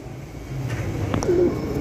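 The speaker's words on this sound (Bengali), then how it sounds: "এক জোড়া রোমান গাল কবুতর" A pair of Roman gaal pigeons in a farm setting gives soft, low cooing, a couple of short calls rising near the end over faint background noise, with no talking.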